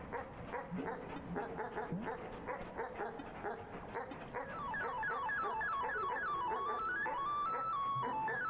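Cartoonish dog barks and yips from the video game Animal Well come in a busy string of short bursts, with rising and falling synth tones building underneath in the second half.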